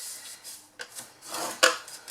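A box is scored on its sides in a series of close, quiet rasping strokes, each a short scraping rub with sharper onsets, separated by brief pauses.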